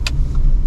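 A 2019 Audi A6 Quattro S Line car engine gives a brief, steady low rumble, close and fairly loud, with no talking.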